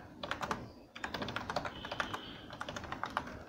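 Close, fairly quiet typing on a computer keyboard while running a Python file, with quick bursts of keystrokes in an uneven rhythm and short pauses between them.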